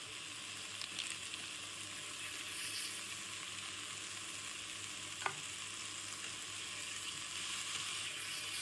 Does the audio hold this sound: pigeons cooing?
no